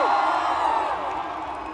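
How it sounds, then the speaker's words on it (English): A large crowd at the Austin, Texas Formula 1 Grand Prix for round 19 cheers and whoops in one broad, loud swell that eases off slightly as it carries on. "what an incredible crowd for round 19 here in Austin, Texas"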